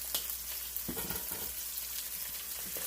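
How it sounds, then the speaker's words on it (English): Asparagus sautés in butter with complete seasoning in a pan, giving a close, even sizzle that runs throughout with a brief stirring scrape early on. "I'm just going to let them sit in that butter and just saute until all of the seasoning cooks in"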